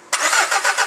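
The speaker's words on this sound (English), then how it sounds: "now we'll just get ready to crank this while we're doing it" A common rail diesel engine cranks on a tester with a sensor disconnected, a loud, steady starter churn with rhythmic pulses of compression beginning abruptly after a short silence and running throughout.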